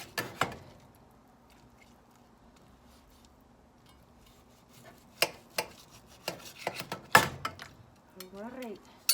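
A knife slices through a baked corned beef on a cutting board, with a few sharp cuts at first, then a quicker run of crisp strokes against the board. Someone talks quietly between the cuts.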